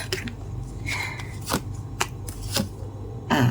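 Oracle cards being shuffled by hand, with a few crisp riffling bursts and soft slaps spread across a few seconds. Close and fairly quiet, with no talking.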